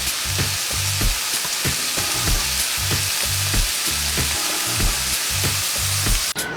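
Garlic and mushrooms fry loudly in a pan, a steady close sizzle broken by repeated stirring scrapes and knocks at a fairly even rhythm, with no talk.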